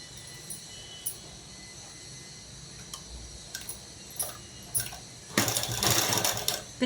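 A sewing machine runs briefly while finishing the end stitching on loose night pants. Quiet ticking and clicks come first, then a louder burst of rapid mechanical stitching for about a second and a half near the end.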